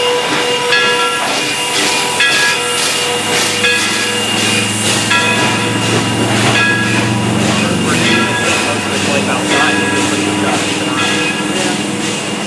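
CNJ 113 steam locomotive runs on the railroad at Port Clinton with a loud, continuous steam hiss and rhythmic chuffing close by, while voices are heard beneath the noise.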